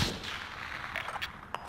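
Gunfire in a first-person shooter video game, several faint sharp cracks scattered over a low background of ambient noise, at a distance and with no talk.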